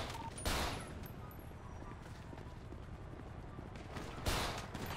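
Gunfire in GTA 5 during a prison breakout: two sharp shots spaced several seconds apart, set against a continuous busy background of faint game noise and movement.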